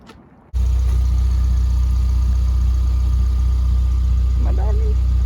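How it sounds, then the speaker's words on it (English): A 2019 Ford Ranger with a downpipe installed and no exhaust fires up after a brief quiet moment, then settles into a loud, deep, raw idle that rumbles steadily close by. "Right, we're gonna get her turned on."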